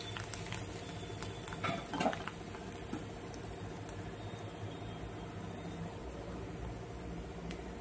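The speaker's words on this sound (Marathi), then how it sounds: "अशा पद्धतीने कांदा परतून घ्यायचा, पूर्ण कांदा लाल होईपर्यंत आपल्याला हा कांदा परतून घ्यायचा आहे" Onion sautéing in a pan with a quiet, steady sizzle, joined by soft scraping stirs of a spoon against the pan and a few clinks around two seconds in.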